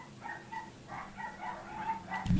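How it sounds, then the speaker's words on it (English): Dogs bark in a game, several sharp yaps and barks in quick irregular succession at moderate distance, ending with a thump. "Now you made my dogs angry!"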